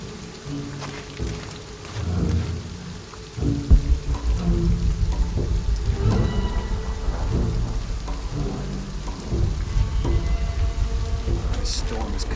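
A thunderstorm in the video game Shadow of the Tomb Raider: steady rain hissing on surfaces with low rumbling thunder rolling in, continuous and fairly close, without any talk.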